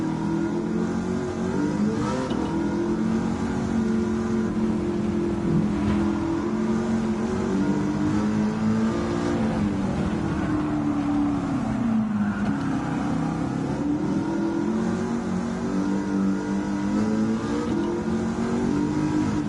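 In Gran Turismo 7, an engine-swapped De Tomaso Pantera drones loudly and steadily on track, its engine note rising and dipping through gear changes, with no talk over it.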